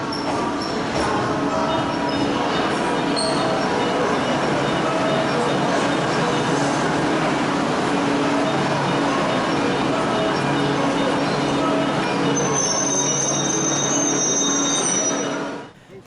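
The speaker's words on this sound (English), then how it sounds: "we took an early local commuter train out to the suburbs" A local commuter train in Kyoto rolls along the rails with a steady rumbling ride noise heard from inside, and a thin wheel squeal rises near the end before the sound drops away.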